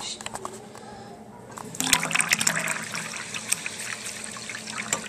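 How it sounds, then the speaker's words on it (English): Water is poured into a cooking pan, a splashing, trickling stream that starts partway through and continues at moderate level, with a person talking nearby. "now we're going to take the 2 cups of water, put it in the pan"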